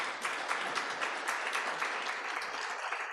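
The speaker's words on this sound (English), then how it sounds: "So then you clap, showing happiness" An audience at an event about world happiness applauds in a continuous wash of dense clapping, moderately distant and steady for a few seconds, with no talk over it.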